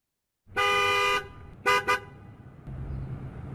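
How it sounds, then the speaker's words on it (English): Vehicle horns honk on a street: one long blare followed by two short quick toots, loud and close, then low traffic rumble carries on underneath. "Also I added some vehicle horns."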